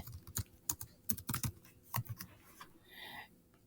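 Keys tapped on a computer keyboard in short irregular bursts of quick clicks, close and fairly quiet, with a brief pause between runs and no talking.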